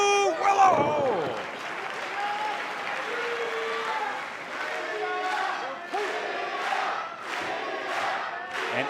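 A wrestling crowd at a women's match between Willow Nightingale and Giulia chants in rhythmic, evenly spaced bursts, a broad arena roar with a commentator talking early on.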